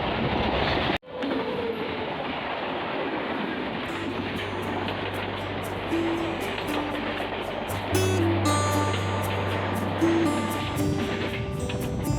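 Passenger train running on the South Eastern Railway line in India, a steady close rumble of wheels and carriage with rattling and clicking, plus a sudden thud near the start and a sustained low hum joining midway.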